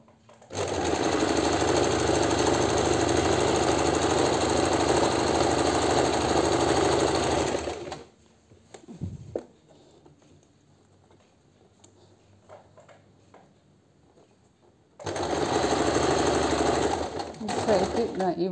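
A sewing machine stitches kurta top fabric in two loud, steady bursts of rapid mechanical chatter, broken by a quieter stretch of faint handling noises before it starts up again.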